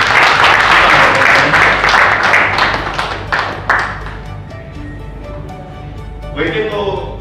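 A crowd at a free medical consultation camp in Moradabad, organised by the Purvanchal Vasi organisation, breaks into loud sustained applause that fades after a few seconds as a voice takes over.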